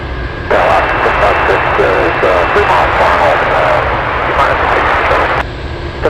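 A Delta airliner taxis at Anchorage airport, its engine roar steady and loud, with radio chatter running through it before the noise drops away near the end.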